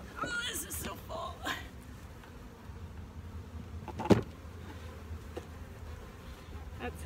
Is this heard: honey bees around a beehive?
yes